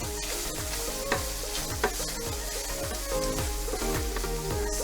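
Chopped vegetables sweating in a pan for a bifteki paprika sauce, a gentle steady sizzle layered with a low rhythmic hum and a couple of light clinks, close and moderately quiet, with no speech.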